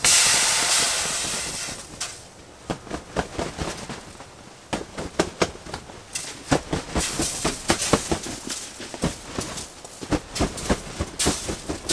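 Water hisses and sizzles loudly on a hot wood stove inside a tent, a steady steam rush broken by rapid crackling pops, with no voices.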